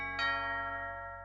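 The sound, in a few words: doorbell ringing in Miffy cartoon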